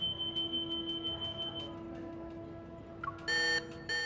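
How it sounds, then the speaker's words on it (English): Flux stabilizer alarm in the video game Love and Deepspace, a steady electronic tone with faint repeating beeps that shifts near the end into a louder, harsh buzzing alarm pulse, quiet overall. "The alarm from the flux stabilizers resounds throughout the entire operating room."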